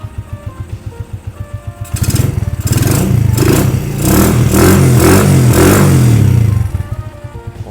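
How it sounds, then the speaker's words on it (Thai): A 2017 Stallion Centaur 250 Max motorcycle idles with a pulsing exhaust, then revs up loud and rough for several seconds before dropping back to idle. "ผมมาฟังเสียงท่อกันเลย"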